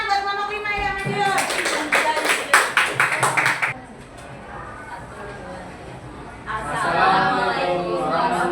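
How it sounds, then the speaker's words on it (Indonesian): A training class gives a presenting group a short burst of quick, close applause lasting about two seconds, followed by quiet room chatter and speech. "silakan tepuk tangan buat kelompok 5 yang maju"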